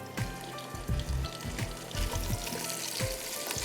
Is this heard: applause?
no